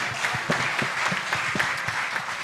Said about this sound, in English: Okay, clap for him so that he can go and sit down.